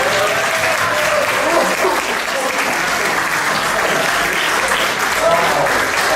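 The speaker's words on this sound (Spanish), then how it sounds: "Den un aplauso al Señor por esa actitud." A church congregation claps during a worship service, dense and loud, sustained for several seconds with some voices beneath it.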